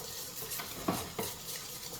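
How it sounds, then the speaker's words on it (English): Flour is whisked into melted butter in a pan for a Cypriot pastitsio sauce, making a soft continuous sizzle broken by a few sharp whisk taps against the metal. "But 2 cups of flour in with the butter, and just whisk that"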